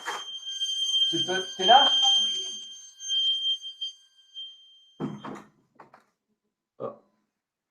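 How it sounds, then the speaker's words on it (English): An alarm rings out during an online lecture, a steady high beeping tone under a man's speech that cuts off partway through, followed by short bursts of talk. "we had a problem with the alarm here"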